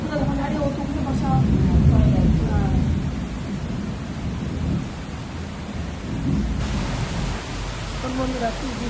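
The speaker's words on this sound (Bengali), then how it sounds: "খুব বৃষ্টি হচ্ছে" Heavy rain pours down steadily in a broad, dense hiss, with rolling thunder swelling early on and people talking faintly beneath the downpour.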